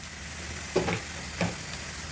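Carrots and green beans sautéing in a pan for pancit canton guisado: a steady low sizzle with two short bursts of louder frying as the vegetables are stirred, no voices.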